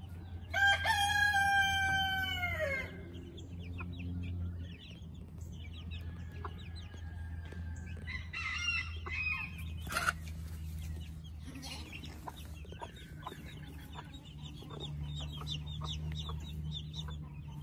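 Hen and chicks clucking softly around the farmyard, a loud rooster crow at the start, then scattered cheeps and clucks over steady low background noise.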